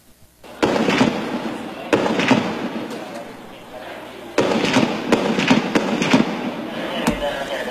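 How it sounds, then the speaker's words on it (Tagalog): An armored vehicle fires at sniper positions during military operations in Marawi City, with loud, sharp gunfire bursts and sustained rattling volleys up close, heavy and continuous, while a news voice speaks over the shooting. "Ang pinuputukan ng armored vehicle ay ang pwesto ng mga nagtatagong sniper ng Mauke Group sa Marawi City."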